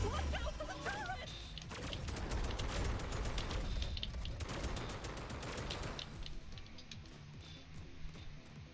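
Rapid turret gunfire in a video game rattles in dense bursts over a loud, busy mix of crashes and mechanical clatter, continuous for several seconds before thinning out.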